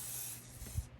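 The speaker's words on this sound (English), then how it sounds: "spraying his beard with some firm holding hairspray" A short, close hiss of firm-hold hairspray is sprayed onto the beard of a handmade sock gnome and lasts about a second before cutting off.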